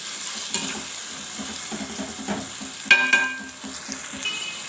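A spiced mixture sautés in a pan with a steady sizzle while a spoon stirs and scrapes in repeated close strokes, including one sharp metallic clink.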